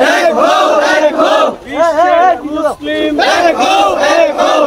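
A crowd at a religious gathering chants slogans in call-and-response bursts, loud and rhythmic, with voices rising and falling in unison across several short phrases.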